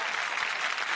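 An audience on a Marathi singing competition stage applauding a band and contestants, a dense, steady burst of clapping from a large crowd.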